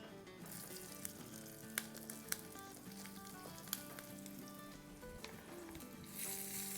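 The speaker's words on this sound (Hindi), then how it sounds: "इसमें हम डाल देंगे अपनी हरी मिर्चें और फिर हरी मिर्चों के साथ भी सौटे करेंगे" Green chilies sautéing in hot oil for a raita, a steady close sizzle with a few sharp pops and stirring clicks, and what sounds like music running underneath throughout.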